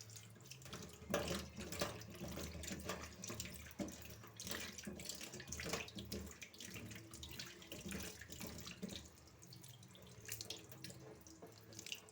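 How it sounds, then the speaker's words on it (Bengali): Fish being rinsed in a kitchen sink under a running tap, a steady close stream of water splashing with shifting gurgles and clatter as the fish are handled, continuous throughout with no talking. "ভালো করে মাছগুলো ধুয়ে নিয়ে তারপরে কথা বলছি।"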